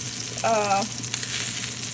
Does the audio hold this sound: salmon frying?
yes